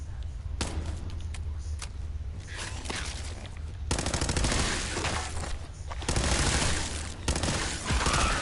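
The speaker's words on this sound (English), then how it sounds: "short pipe rifle." Short pipe rifle fire in Fallout 4, sustained bursts of shots in several loud stretches broken by brief gaps, with game ambience underneath and no talking.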